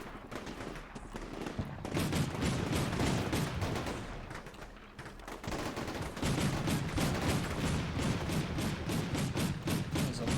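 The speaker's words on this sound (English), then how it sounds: "We're taking fire." Sustained gunfire in a combat video game, dense rapid volleys of shots rattling almost continuously, with a short lull around the middle before the firing resumes just as thick.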